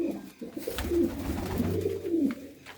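Pigeons belonging to a fancier from Lohakhera coo in soft, low rolling phrases close by, several birds overlapping continuously with faint background rustling and no speech.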